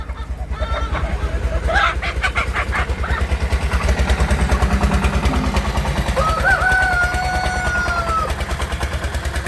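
Hens in a coop, with clucks and a drawn-out squawk heard up close over a loud low rumble like an engine, and a voice briefly in the mix.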